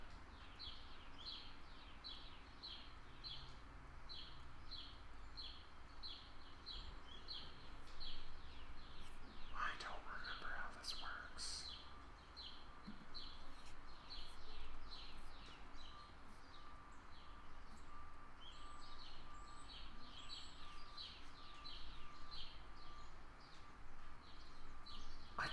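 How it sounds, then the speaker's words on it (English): Birds chirp and tweet continuously in the background, bright and fairly loud, with a brief burst of louder calls partway through. "birds are so loud"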